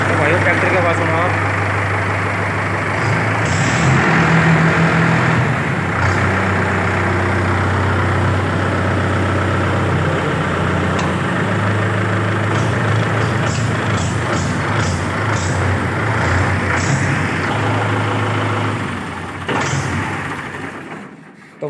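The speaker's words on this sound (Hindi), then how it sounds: "तो भाई ट्रैक्टर की आवाज़ सुनाओ" A Mahindra 575 DI tractor engine idles steadily and loudly nearby, a low continuous rumble with a few faint clicks, fading slightly at the end.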